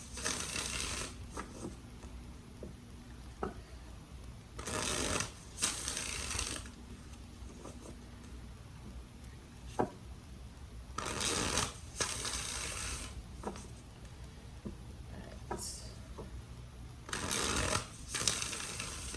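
Tarot cards being shuffled in several short riffling bursts, separated by quiet pauses, fairly soft and close with no talking.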